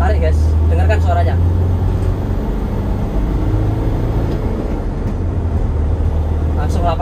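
A 2013 Toyota Hiace Commuter minibus engine drones loud and steady from inside the cabin while accelerating, a low rumbling hum with faint voices briefly over it.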